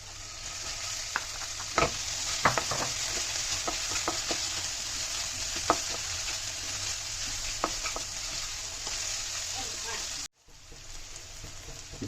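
Onions with ginger-garlic paste fry in a pan for an Assamese-style green chicken curry, giving a steady loud sizzle broken by sharp stirring scrapes, then a brief cut near the end before the frying resumes.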